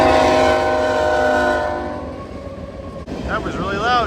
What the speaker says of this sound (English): This is the Great Northern Railway line, the Second Transcontinental Railroad.